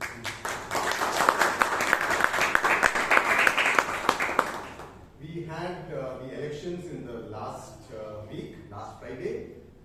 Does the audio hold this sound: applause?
yes